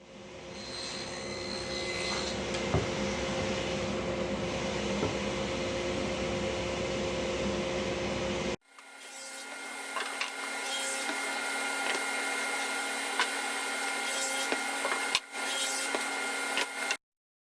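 A sustained whining power-saw drone cutting a wood lamination runs steadily, cuts out abruptly midway, then resumes with a harsher, higher buzz and brief sharp clacks.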